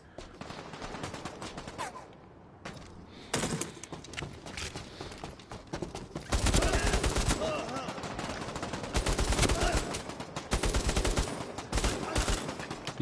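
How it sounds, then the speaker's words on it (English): Rapid automatic gunfire and single shots in the VR shooter Bravo Team, crackling in dense bursts that swell louder midway, with players talking over the shooting. "I'm shooting a dead body."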